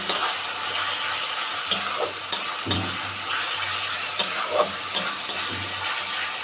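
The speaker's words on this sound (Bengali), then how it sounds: "এখন মশলাটা কষিয়ে নিই" Spice paste (masala) frying and being stirred in a pan in a home kitchen, giving a steady close sizzle with irregular scraping knocks of the spoon against the pan throughout.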